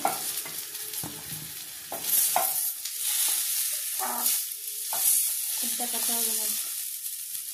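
Eggplant slices sizzle and crackle in hot oil in a pan, a steady frying hiss with occasional stirring scrapes and faint background noises.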